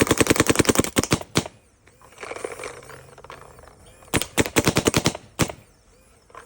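Vanguard Demon paintball marker firing in two rapid bursts of sharp, evenly spaced shots, loud and close, with a quieter mechanical lull between them.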